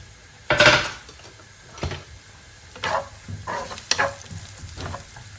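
Onions, ginger, garlic and green chili frying in a pan, a soft sizzle broken by several sharp scrapes and clinks of a spatula against the metal, irregular and close.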